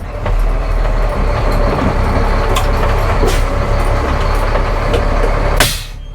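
A semi truck's diesel engine idling, a loud steady low rumble with a constant rattle close by, ending in a brief hiss as it winds down near the end.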